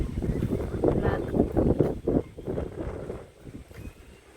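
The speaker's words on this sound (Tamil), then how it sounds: "காற்று பயங்கரமாக வீசுது." Strong wind gusting through a garden in the evening, a loud, buffeting rush with microphone rumble that swells and eases in irregular bursts; a voice may be faintly present.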